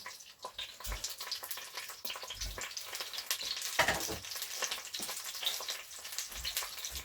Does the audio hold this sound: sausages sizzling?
yes